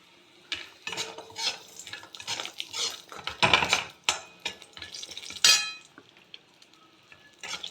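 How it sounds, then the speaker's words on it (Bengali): Sun-dried lentil dumplings (bori) frying in leftover fish-frying oil for a thin fish curry, with repeated close clinks and scrapes of a utensil against the pan over a light sizzle. "মাছ ভাজার মধ্যে ফোড়ন না দিয়ে আগে বড়ি ভেজে নিলাম"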